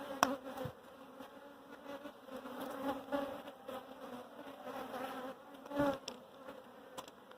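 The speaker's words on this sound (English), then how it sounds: "Also got a couple of younger bees there." Honey bees buzz steadily around hive frames during an inspection, a continuous near drone with brief louder passes of individual bees close by.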